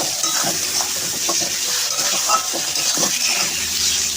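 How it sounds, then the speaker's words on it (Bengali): Cumin seeds being sautéed in a pan for an egg dal, giving a steady close sizzle and hiss with soft scraping and stirring knocks throughout, no voices. "এখন জিরেটা দিয়ে আমি আরো 5 মিনিটের মতন এটাকে কষিয়ে নিচ্ছি।"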